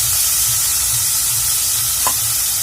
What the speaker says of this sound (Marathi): तर इथे मी कढई गरम होण्यासाठी ठेवली आहे आणि यात आपण कांदे आणि टोमॅटो हे सगळं आपण यात घालून घेणार आहोत.